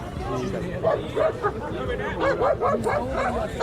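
Dogs bark and yip in short bursts amid a noisy crowd at a large animal and horse fair in Muktsar Sahib, with steady babble of voices underneath.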